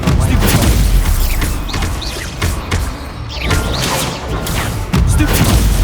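Fire blast spells from Hogwarts Legacy boom and crash repeatedly through a dense, loud battle, layered with clashing combat effects and shouted voices throughout.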